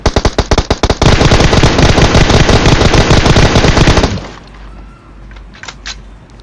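Loud, rapid bursts of automatic gunfire in PUBG Mobile, a few single shots then a sustained stream that cuts off abruptly, leaving quiet room tone.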